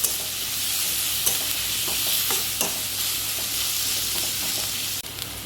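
Tomatoes frying in a pan of chicken shahi korma, wedding style, give a steady loud sizzle throughout, with occasional soft clicks and scrapes of stirring on top and no talking.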